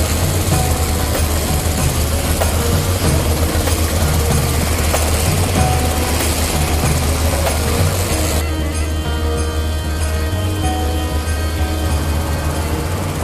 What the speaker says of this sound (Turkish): Helikopter yanımızda.